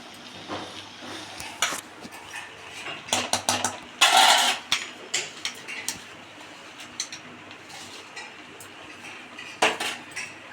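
A spoon scrapes and clinks against a pot as cooked rice is mixed for a vegetarian jackfruit biryani, giving scattered metallic taps with a louder burst of scraping partway through and quieter stirring between.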